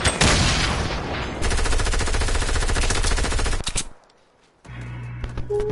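A video game firefight with rapid, loud automatic gunfire in sustained bursts, breaking off into a brief lull before more shooting and game sounds resume.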